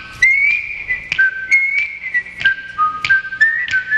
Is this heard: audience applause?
no